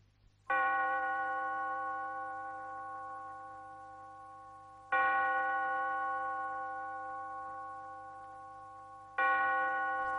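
A cemetery clock bell tolls three times in a radio drama, each strike a bright harmonic clang that rings out and slowly decays over several seconds before the next, alone against a faint low hum.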